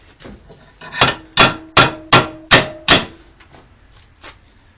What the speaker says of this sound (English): I'm more or less just beating it into a relatively pleasing shape.